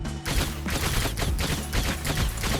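Beam weapon firing in Orcs Must Die, a run of rapid, rough bursts pulsing in quick succession over a busy, noisy background.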